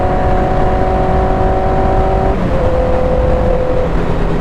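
A 1000cc motorcycle accelerates while riding, a steady whining engine tone that shifts pitch midway under heavy wind rush, heard from the rider's position.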